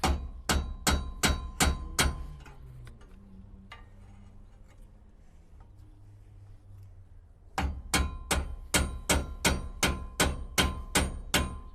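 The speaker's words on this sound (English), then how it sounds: "As they're hammering stuff." Rapid, evenly spaced hammer blows ring out nearby in two bursts, separated by a quieter stretch of low background noise.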